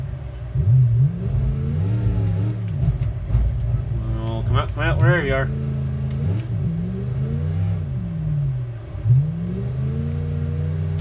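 A video-game truck engine drones and revs in rising and falling swells, with a brief high burst in the middle, while someone talks over it.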